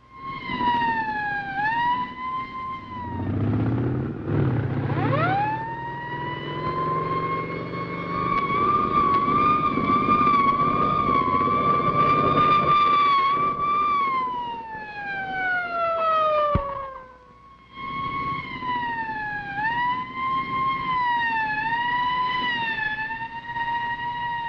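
Police motorcycle escort sirens wailing through Tacoma in 1947, rising and falling tones that sweep up and down repeatedly, loud and close, with a brief drop before resuming.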